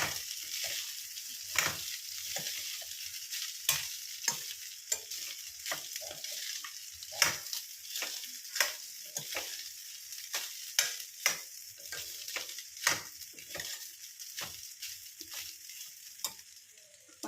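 Ajwain rice being stirred and mixed in a pan, with repeated scraping strokes of a spoon over a faint continuous sizzle, close and steady throughout.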